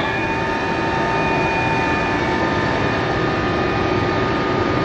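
Haas ST-30 CNC lathe spindle turning at 750 RPM, a steady mechanical whine with several fixed tones over a constant broadband hum, even and unchanging throughout, close and fairly loud with no talk.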